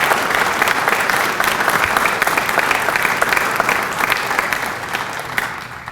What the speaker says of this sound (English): Let's give them another great big round of applause.